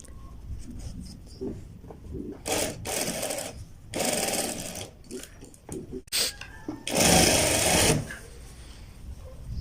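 A sewing machine stitching a kurta runs in short bursts of rapid mechanical chatter, stopping and starting several times, with quiet handling noises between the runs.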